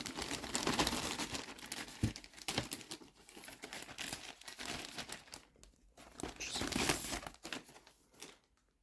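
Packing tape being ripped and cardboard crinkled while unboxing an E-flite Habu STS 70mm EDF jet box, a steady close stream of tearing and crackling that fades near the end.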